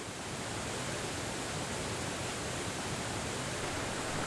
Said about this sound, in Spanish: La cascada de Mármore, una de las más altas de Europa